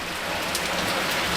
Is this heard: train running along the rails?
no